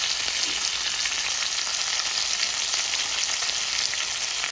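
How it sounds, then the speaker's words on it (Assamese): Steady, loud sizzling of chicken frying in a hot pan, a continuous crackling hiss with no talking. "এতিয়া এনেই অকণমান ফ্ৰাইহে কৰিছোঁ"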